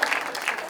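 Brief burst of audience clapping during the credits of an Ideal Colony musical about Krishna, dense and moderately close, with a faint voice mixed in.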